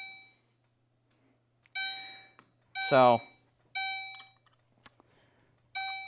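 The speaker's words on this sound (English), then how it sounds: "once it's released again, the alarm goes off." A fire alarm pull station's alarm going off, sounding as loud, repeated electronic tone bursts separated by short pauses, with a person briefly speaking between them.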